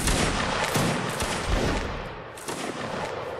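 Musket volley in a Napoleonic Wars line battle game, a ragged crackling burst of many shots fired together, then a lingering rattle of scattered reports, loud and close across the whole stretch.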